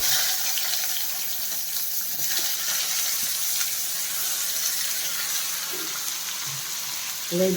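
Onions and cumin seeds frying in oil with mustard seeds for a turkey berry stir-fry, giving a steady broadband sizzle with a few faint clinks, no speech.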